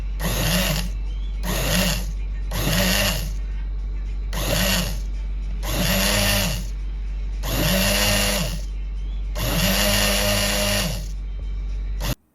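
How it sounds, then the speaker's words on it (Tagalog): A blender whirring through dragon fruit and fresh milk in seven short pulsed bursts of rising and falling motor whine, loud and close, with brief pauses between them. "Lalagyan ko siya ng fresh milk. Tsaka, i-blend na natin."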